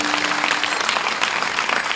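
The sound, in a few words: audience clapping at a kirtan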